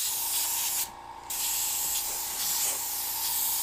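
Isopropyl alcohol and water sprayed from a spray bottle onto an airbrush painting: a steady close hiss of mist, broken by a short pause, then continuing.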